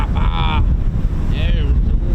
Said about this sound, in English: Quite a bit windy up here.